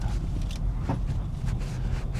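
A Skoda Slavia Monte Carlo sedan with a manual gearbox climbs an uphill road, its engine giving a steady low rumble heard from inside the cabin, with faint rattles from luggage in the back.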